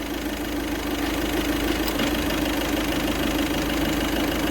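With the air conditioning switched on, a Volkswagen Vento engine idles in a close, even drone with a light pulsing knock beneath it, continuous and without voices.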